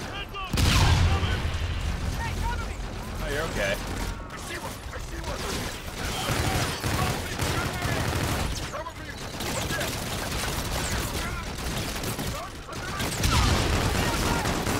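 Rapid bursts of SMG fire in Call of Duty Infinite Warfare, loud and close, with mechanical clatter and thuds between volleys and someone talking over the shooting.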